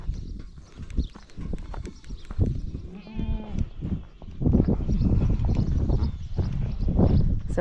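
Goat kids and their mothers bleat in a pen at weaning time, with some trembling cries standing out among hoof shuffling, rustling and low voices talking.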